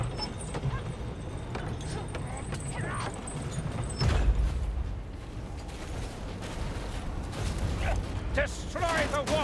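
Gate control machinery in a Skaven engineering works in Vermintide grinds and creaks with ratcheting, gear-like clatter, steady and moderately loud, with a heavier clunk midway and a voice speaking over it.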